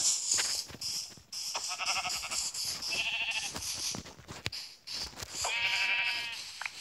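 Minecraft sheep give repeated wavering bleats, several close calls in a row separated by short pauses, with a busy, clicky game background.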